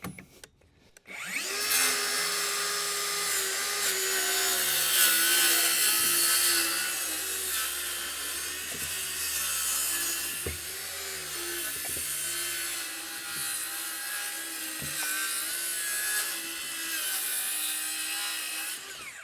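A power saw rips through timber along a chalk line while framing a shed foundation, its steady, loud whine running close and continuous for most of the stretch, with brief dips in load and no talk.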